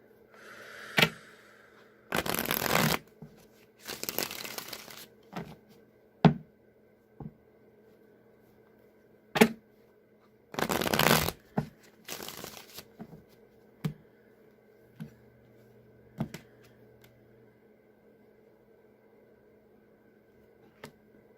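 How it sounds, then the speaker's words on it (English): Tarot cards riffle and snap in several short bursts as the deck is shuffled, with soft taps and clicks between them, close up in a quiet room. "as I was shuffling this deck again"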